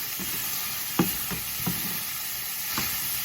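Garlic sizzles in extra virgin olive oil in a hot pan, a steady frying hiss broken by a few soft knocks and scrapes as the pan is tossed and stirred.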